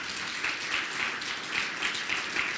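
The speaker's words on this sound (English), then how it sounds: "Let's give our federal friends a round of applause" Steady audience applause at a city of Fremont legislative event, a dense continuous wash of many hands clapping with gentle swells, heard from some distance in a large room.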